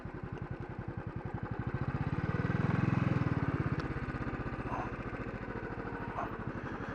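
A 2016 Royal Enfield Thunderbird 350 motorcycle engine idles close by with a steady, rapid single-cylinder thump. The revs rise briefly in the middle and then settle back to a loping idle.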